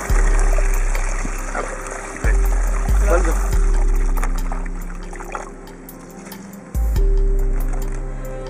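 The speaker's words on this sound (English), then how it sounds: "You add about 4 liters of water in the middle of the box." Water poured into the middle of a planting box around tree roots to compact the soil, a trickling pour running under intermittent speech with low thumps and a brief cheer.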